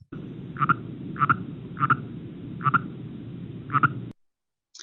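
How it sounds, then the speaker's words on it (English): A recording of a single Northern Pacific tree frog chirping, five evenly spaced two-part ribbits about a second apart over a low background hum, ending in silence. "Here's a recording of one little guy chirping all by himself."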